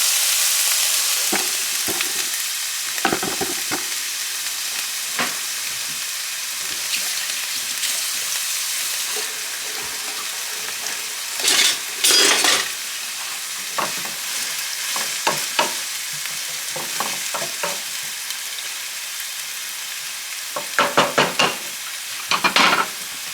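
Food-processed garlic and half an onion sizzle steadily in a hot pan, a close, continuous frying hiss broken by occasional stirring scrapes and clinks, with no voices over it.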